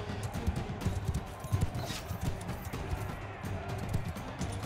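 Horse hooves in Mount & Blade II: Bannerlord thud in a steady galloping clip-clop, close and moderately loud, mixed with battle noise.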